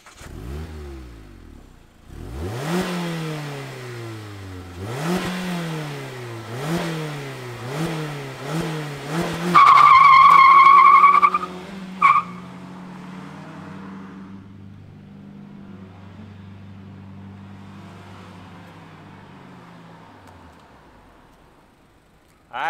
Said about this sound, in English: Let's fire up this MX-5 and hear what it sounds like.